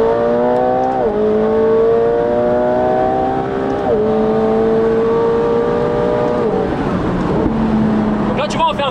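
McLaren 720S roaring hard on a derestricted German autobahn, its engine pitch climbing through several gears with brief dips at each shift, loud and continuous under someone speaking.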